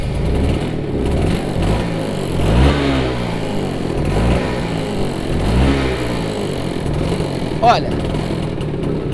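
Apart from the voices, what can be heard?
Vespa scooter two-stroke engine starting and running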